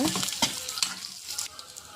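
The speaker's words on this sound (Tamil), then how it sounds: "ஒரு பெரிய வெங்காயம் கட் பண்ணியிருக்கேன், இதையும் போட்டு வதக்கிக்கலாம்." Chopped onion and tamarind sautéing in a pan, a steady hiss broken by a few scraping stirs, close and moderately loud with no talk.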